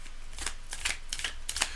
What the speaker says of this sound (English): I'm just going to shuffle up a little bit here